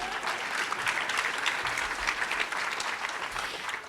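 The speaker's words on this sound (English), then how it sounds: "give yourselves a round of applause" An evening awards-ceremony audience applauds, a dense, even wash of many hands clapping that holds steady for several seconds without fading.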